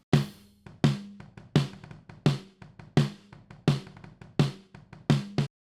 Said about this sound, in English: So that's just the snare.